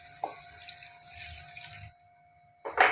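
Water runs into a pot of beef qeema with potatoes and peas, a bright steady splashing stream that stops abruptly, then a brief louder splash near the end.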